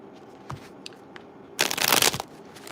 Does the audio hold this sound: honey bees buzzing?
no